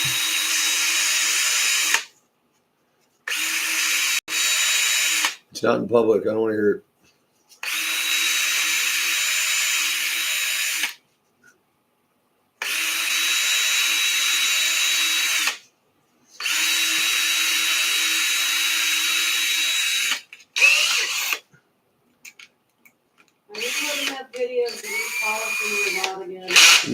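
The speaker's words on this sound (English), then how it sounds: "A little emery cloth." A pin from an Arrma 6s RC car is polished with 400 grit emery cloth while a high, steady power-tool whine runs in repeated bursts separated by short silences. A person speaks briefly between bursts.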